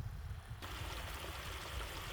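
A small rural waterfall in the Thai countryside flows steadily, making a soft, continuous rush of water that grows fuller after a brief moment.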